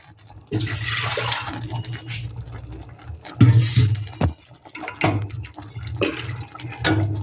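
Water poured into a pot of ghugni curry, splashing and gurgling in uneven bursts with a couple of sharper knocks, close and fairly loud with no talking.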